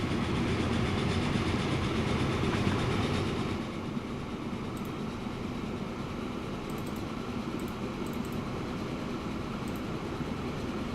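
A train rolling along in the Transport Fever video game, a steady low rumble with rhythmic wheel clatter and faint high clicks, louder for the first few seconds before easing to a constant drone.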